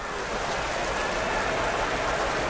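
Rain weather falls during a Pokémon video game battle, a steady, dense hiss of rainfall that stays even throughout with no voices over it.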